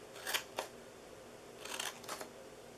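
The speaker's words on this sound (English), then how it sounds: "we're going to cut into each one of these" Scissors snip into the sides of a paper cup-of-tea treat box: four short, crisp cuts in two pairs, close and fairly quiet, with no talking.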